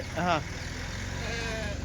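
Sheep at a weekly livestock market in Kadiri give a single short bleat near the start, with steady crowd murmur and market noise continuing underneath.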